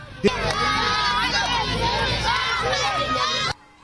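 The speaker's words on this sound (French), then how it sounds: "les populations ont également bravé la chaleur pour les acclamer" A crowd in a Malian village welcomes pan-African marchers walking from Dakar, a dense, loud swell of cheering and shouting voices that holds steady for a few seconds and then cuts off.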